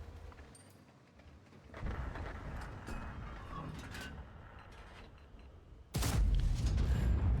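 Tank cannon fired in a tank video game, a single sudden loud boom near the end, preceded by clanking, creaking tank mechanisms and rumbling movement.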